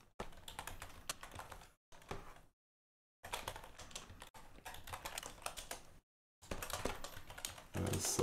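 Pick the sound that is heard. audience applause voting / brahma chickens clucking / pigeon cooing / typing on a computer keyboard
typing on a computer keyboard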